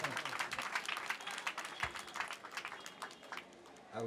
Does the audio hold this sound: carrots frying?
no